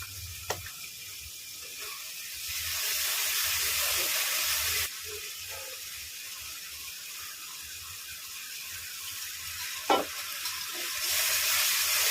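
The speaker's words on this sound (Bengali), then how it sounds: "হলুদ, লঙ্কার গুঁড়ো দিয়ে এবার এটাকে ভালো করে কষিয়ে নেব" Turmeric, chilli powder and spices frying in a pan for masala pasta, a continuous sizzle that swells and fades with stirring, with a few sharp scraping clicks from a utensil.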